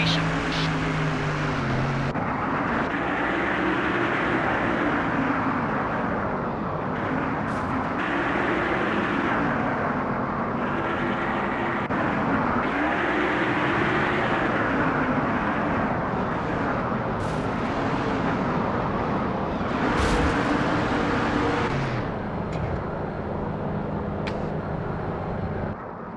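Race car engines in the NASCAR Thunder 2004 game at Las Vegas roar together steadily and loud, pitches rising and falling as cars accelerate, with a spotter's voice over the field.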